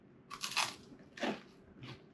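Fried cinnamon sugar snacks bought at a Sunday street market are bitten and chewed up close, producing three sharp crunches spaced about half a second apart, the last one softer.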